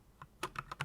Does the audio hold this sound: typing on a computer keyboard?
yes